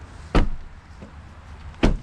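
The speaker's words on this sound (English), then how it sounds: "shut the doors, hit the button, and the vehicle's locked" Two solid door slams from a 2021 Nissan Rogue SL Premium AWD, about a second and a half apart, each a sharp loud thud over low ambient hum with no talk.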